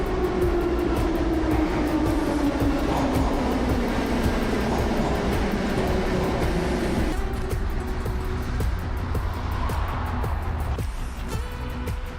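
A metro train runs through a Tashkent metro station, a loud, continuous rumble with a falling motor whine that shifts to a steadier roll partway through.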